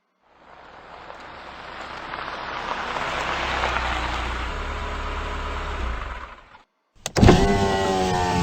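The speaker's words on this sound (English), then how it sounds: "I hear a car coming." A car in a Carmen Sandiego video game set in wintry Quebec City swells in from silence, its engine rumbling steadily louder for about six seconds before cutting off abruptly, followed by a bright, sharp burst of other game sound.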